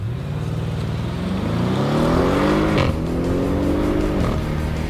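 An Audi RS7 in sport mode launches hard from a standstill, its engine note climbing steeply through two gear changes with brief dips at each shift, loud and close, with no talking.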